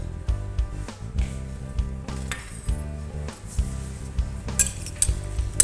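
Eggplant salad being lightly stirred with a utensil in a dish, giving a steady run of soft clinks and scrapes of metal against the bowl, close and alone with no talk.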